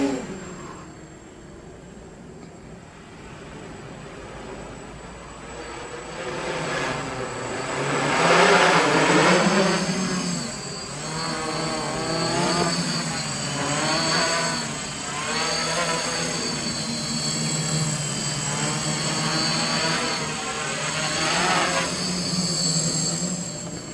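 A KK2 quadcopter flying, its motors giving a steady buzzing whine that rises and falls in pitch as throttle changes, fairly close and continuous for the whole stretch, with no talk.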